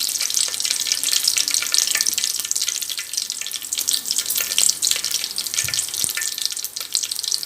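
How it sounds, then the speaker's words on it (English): Fenugreek seeds frying in hot oil for a fish curry tempering, a dense, bright, steady sizzle held close and loud from start to finish, with a faint clack of a utensil near the end. "So we have added fenugreek seeds. So let it get fried."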